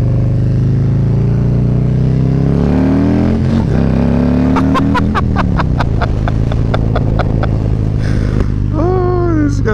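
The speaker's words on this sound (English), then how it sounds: "Alright, so the engine is warmed up, just to give you guys a heads up." A warmed-up 2017 Harley-Davidson Freewheeler trike engine on a test ride, a loud close V-twin drone that rises as it revs and accelerates, with a brief shifting pattern and a voice near the end.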